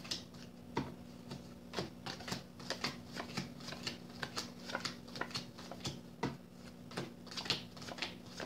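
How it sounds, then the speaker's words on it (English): Tarot cards being shuffled up close, a string of crisp flicks and taps in an uneven rhythm, fairly quiet with no voices. "As you know, I shuffle the cards 3 times."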